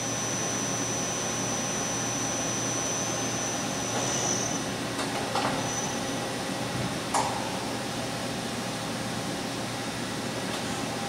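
A KURAKI KV-1000 three-axis vertical machining center running in high gear, giving a steady, even mechanical whir and airy hum throughout, with a few faint clicks.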